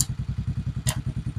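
Motorcycle starter motor kicked by touching bare wires together, churning in a fast, even run of close, loud thumping pulses with a sharp spark crackle partway through.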